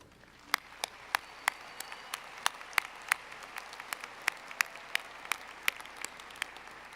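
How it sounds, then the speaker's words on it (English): A commencement crowd at Eastern Washington University offers scattered applause for advisors, professors and staff, a soft bed of clapping with several loud, close individual claps. "I would appreciate it if you could please recognize these individuals by giving them a round of applause."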